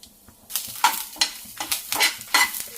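Chilies, curry leaves and cumin seeds fry in hot oil, sending up bursts of crackling sizzle while a spoon stirs and scrapes the pan in uneven strokes, close by with no talking.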